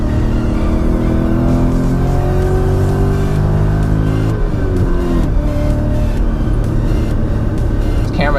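Supercharged BMW M5 on a race track, its engine droning loud and close with the pitch falling then climbing again as it brakes downhill into a tight corner and pulls out.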